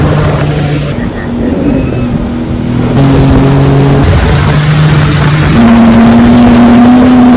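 Jet ski water bike engine on a lake at Ukkadam in Coimbatore, a steady close droning motor whose pitch rises and shifts as it revs, loud throughout.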